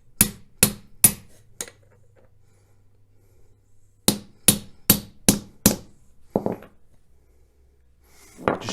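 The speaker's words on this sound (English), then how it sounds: "Bring in the socket. Just tap the new bearing in." A new belt tensioner bearing on a Honda J-series V6 being tapped into place with a socket and hammer: four sharp metallic taps, a pause, then five more evenly spaced strikes, close and crisp.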